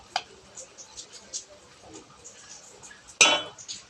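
A metal spoon clinks against a pot as turmeric goes into a Telugu-style fish curry, with a few soft taps and one sharp, bright clink near the end.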